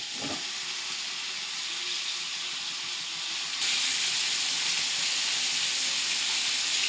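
Cleaned meat dropped into a hot pan sizzles with a steady, loud hiss that jumps in intensity partway through and continues without talk.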